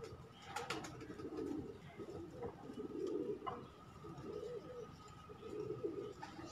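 Blue-eyed pigeons cooing in a loft: soft, low, rolling coos repeat in several bursts, with a few faint higher chirps and scattered background clatter, fairly quiet and close by.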